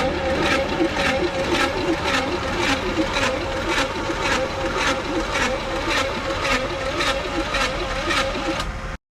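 Trike motor cranking over on its starter after a seized engine was freed with a flywheel pressure tool and pry bar, a steady rhythmic chugging with regular pulses, close and loud, running continuously without any talk.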